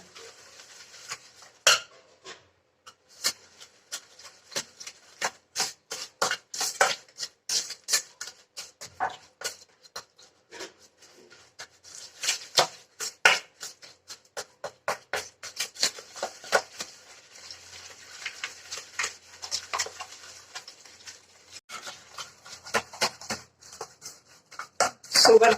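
A spoon scrapes and clinks against a bowl while ghee and powdered sugar are mixed together, irregular bursts of metallic taps and scraping that come and go, with occasional quiet talk.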